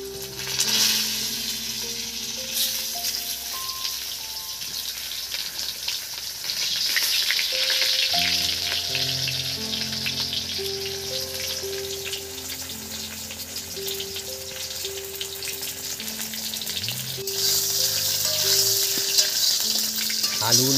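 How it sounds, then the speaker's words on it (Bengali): Potatoes frying in a small amount of oil, in the same pan used for a large sea fish, give a continuous close sizzle that holds steady throughout, with faint clinks and a low tonal hum beneath. "আলুগুলো আমি ভালো করে একদম ভেজে নেব।"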